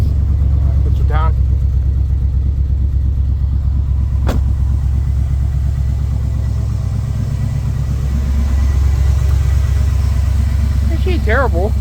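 A 2000 GMC 2500 truck idles in the cold after an 18-degree start, a loud steady low rumble throughout with a brief sharp click partway and a voice speaking near the end.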